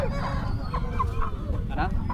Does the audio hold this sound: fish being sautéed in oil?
no